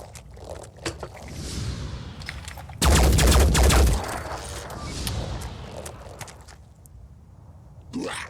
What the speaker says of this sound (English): I need to stop tickling with assault rifles.